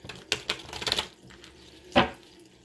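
Tarot cards shuffled by hand, heard as a few close, crisp riffling and tapping bursts with a final sharper snap, no voices.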